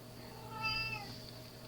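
A female house cat gives a single soft meow indoors, fairly close but quiet, rising briefly in the middle of otherwise calm room tone with no talking.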